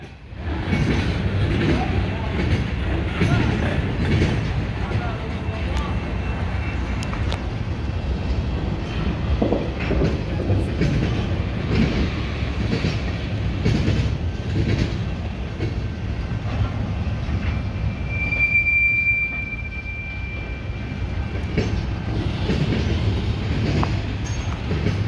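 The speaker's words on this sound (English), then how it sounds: "The train is leaving out of the BNSF Calwa yard." A BNSF freight train pulls out of the Calwa rail yard in Fresno, California, its steady rumble and clattering wheels continuous and fairly close, with a brief high wheel squeal partway through and voices faintly present.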